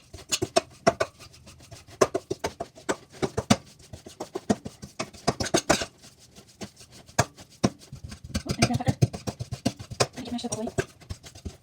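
Pie crust crumbs mashed together with butter for a lemon meringue pie make a quick, repeated scraping and pressing rhythm, with close, uneven strokes that are briefly denser toward the end.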